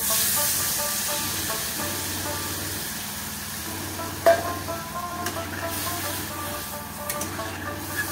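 Bottle gourd greens with green chilli being stirred in a pan, a steady soft sizzle and hiss running throughout with faint scraping and one sharp clink of a utensil midway.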